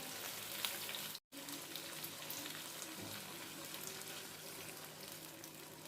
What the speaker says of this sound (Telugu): కొంచెం వాటర్ కలుపుకుందాం